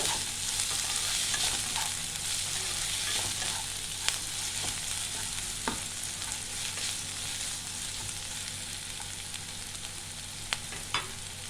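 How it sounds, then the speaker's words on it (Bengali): Baby corn and yellow bell pepper frying in oil for a crispy restaurant-style chaat, a loud steady sizzle throughout with a few faint clinks of stirring, no voices. "2 চামচ, হালকা করে ভাজবো।"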